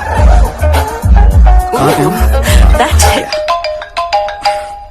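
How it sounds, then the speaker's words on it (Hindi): A phone rings with a repeating electronic ringtone melody, loud and close, and someone talks over the first part before the chiming tones continue alone. "ये फिरौती का फोन है, समझे?"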